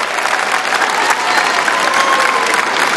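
An audience at a women's squash semi-final at the 2017 SEA Games applauds a point with loud, dense, steady clapping, sustained evenly throughout with a faint murmur of crowd underneath.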